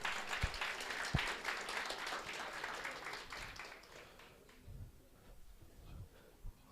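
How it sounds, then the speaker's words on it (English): A workshop audience in Tlhabane applauds a prize winner, a dense burst of clapping that thins out after a few seconds into scattered claps and murmurs. "One more time, a round of applause for Llewellyn."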